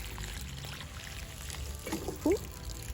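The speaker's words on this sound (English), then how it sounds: "I need to water them in." Quiet water pours and trickles in a brief, soft stream onto newly planted chrysanthemums against a low background hum, with a small splash near the end.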